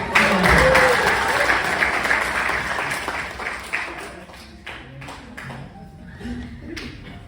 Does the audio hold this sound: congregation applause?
yes